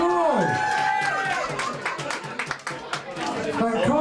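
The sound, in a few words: applause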